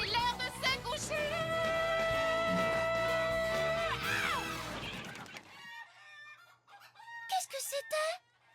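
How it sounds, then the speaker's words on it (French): Cartoon chickens cluck and squawk near the end after a stretch of musical sound, short agitated bursts with brief gaps between them, fairly loud and close. "Fluttershy, tes poules se sont enfuies."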